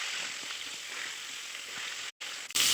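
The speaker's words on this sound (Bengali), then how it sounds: "পটলটা খুব ভালো করে ভেজে নিতে হবে।" Pointed gourd (potol) frying in mustard oil in a kadai, a steady soft sizzle and hiss that cuts out briefly near the end.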